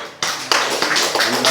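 A church congregation at an early-morning service claps together in thanks, a dense burst of many hands starting sharply and continuing steadily at close range.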